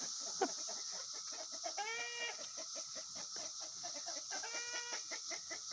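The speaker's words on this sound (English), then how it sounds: "I'm in the other chicken lot, and they're actually very nice." Chickens cluck and give short harmonic calls in an outdoor chicken lot, a steady run of soft clucks with two brief higher squawking bursts, moderately near, with no talking.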